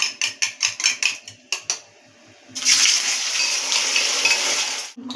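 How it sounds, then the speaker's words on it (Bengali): Potatoes and cauliflower frying in a pan: a run of sharp clinks and taps at first, then a loud, steady hiss of sizzling oil that continues until the end, with no talking. "এবার আমরা আলু এবং ফুলকপিটা এক এক করে ভেজে নেব।"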